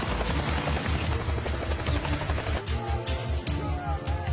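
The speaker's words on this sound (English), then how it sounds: "As a chopper races into the area" A helicopter races in with a fast, heavy rotor chop that thumps rhythmically under a dense rumble, loud and close, with sharper bursts layered in toward the end.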